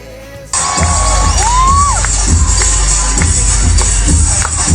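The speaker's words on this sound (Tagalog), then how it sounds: "Sigawan ang mga audience nang pabalik-balik na lumusot si Atasha sa pagitan ng mga binti ng kanyang partner." Studio audience screaming and cheering during a televised noontime-show dance performance, loud and sustained shrieks and whoops that surge in abruptly after a quieter start, with music underneath.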